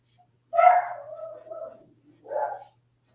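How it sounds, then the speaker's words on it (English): A dog barks close by, one strained, whining bark that drags out, then a second shorter bark after a brief gap, with silence around them. "The dog's freaking out."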